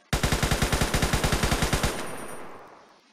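Rapid burst of machine gun fire from a vehicle's front gunner in a video game, about eighteen evenly spaced loud shots over nearly two seconds, then a fading echo tail with no talking.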